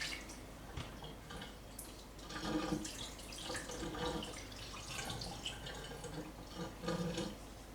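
A steady splashing stream of water runs into a cooking pot in a home kitchen while chicken noodle soup is being made, with a fairly close, uneven gurgle that swells slightly in places.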